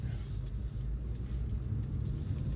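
A 2005 Lexus IS250 SE on a short test drive over rough roads gives a steady, low engine and road rumble heard from inside the cabin, unbroken and even throughout, with no talking.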